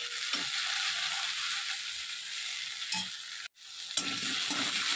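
Potatoes fry in a pan for a cauliflower-potato posto dish, giving a steady close sizzle with a few stirring clicks and one brief pause before the hissing resumes.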